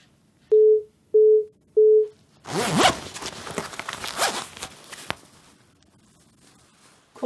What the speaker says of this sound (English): I'm ready for the zipper.